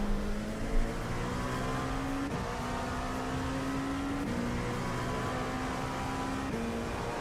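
LMP2 race car engine in a sim racing video game, heard as a steady mid-pitched drone that climbs through the gears with brief shift drops, cruising at a constant level.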